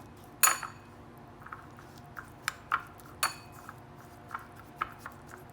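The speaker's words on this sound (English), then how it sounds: "So let's mix it together." Chicken and vegetables are tossed with oil in a dish, with scattered light clinks and taps of a utensil against the dish and soft wet squishes, fairly quiet in a still room.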